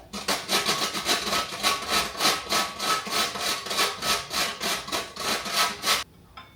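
A spice being ground by hand for puff puff batter, a rhythmic scraping rub repeating about twice a second, close and fairly loud for six seconds before stopping abruptly.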